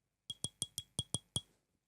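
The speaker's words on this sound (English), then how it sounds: "she stands up, clinks her glass" A utensil taps a glass at a dinner table seven times in a quick, even series, bright ringing clinks that are close and clear with silence around them and no voices.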